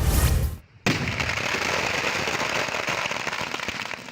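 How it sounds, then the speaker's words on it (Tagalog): Confiscated illegal firecrackers detonate in an open field during a police disposal, a loud burst, then a brief gap, then a dense, sustained crackle of rapid pops and bangs that goes on without a break. "Pinasabog sa open field na ito ang ilang nakumpiskang iligal na paputok ng PNP Calabarzon sa kanilang ceremonial disposal"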